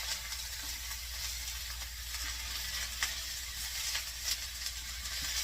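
Kielbasa, potatoes and corn sizzle steadily in a skillet that is a little too small, a continuous close frying hiss with faint crackles and no talking.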